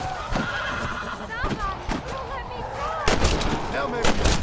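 In the Red Dead Redemption Undead Nightmare video game, a horse whinnies amid hoof clip-clops and sharp gunshot bursts, with a voice talking over the busy game mix.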